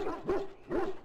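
A Mabari war dog in the fantasy game Dragon Age: Origins gives two sharp, close barks about half a second apart, each with a short tonal yelp ringing after it.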